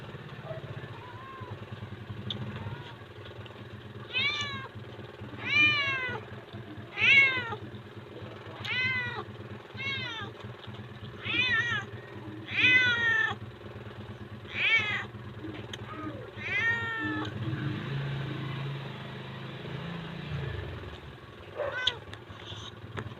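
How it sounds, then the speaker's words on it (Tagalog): A cat meows over and over in a steady string of plaintive cries, close by, with a low engine idling in the background. "bigyan natin yung pusa guys para walang maingay."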